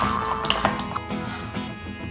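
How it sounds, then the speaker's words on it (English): Avocado and onion sandwich filling gets stirred in a bowl, a spoon clinking against the sides in quick, bright taps over a few seconds, close by. "Now mix it well."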